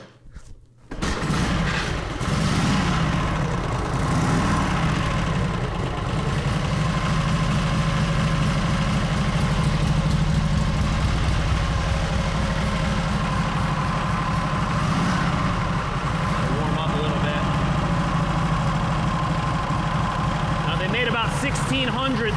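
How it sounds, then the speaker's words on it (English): A 1936 Harley-Davidson Knucklehead motorcycle engine fires up after a brief start and settles into a loud, steady idle with a low, even rumble that runs unbroken and up close. "We're gonna fire this thing up for you here right now. You can hear what these babies sound like"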